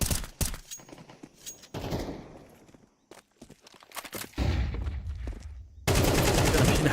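Bursts of SMG gunfire from a competitive multiplayer shooter match crack out in rapid volleys, separated by footsteps and brief lulls, with a sustained heavy spray of fire closing the sequence.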